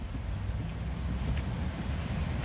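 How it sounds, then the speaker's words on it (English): Low, rumbling wind buffets the microphone continuously, a steady blustery roar with no talking. "It's a windy day."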